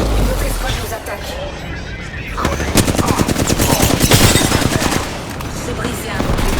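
Gunfire in a shooter video game, with rapid automatic bursts dominating the middle and heavy background noise around them, while a voice speaks over the shooting.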